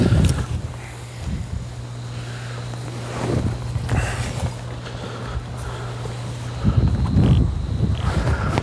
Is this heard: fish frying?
no